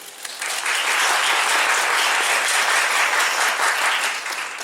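Audience applause fills a theater at a stage greeting after an evening performance of the Korean musical Agatha: dense, steady clapping from a large crowd that starts almost at once, stays loud throughout and eases slightly at the end.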